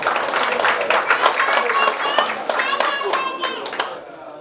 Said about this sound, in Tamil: நம் அனைவரும் கரவொலி எழுப்பி வாழ்த்துக்களையும்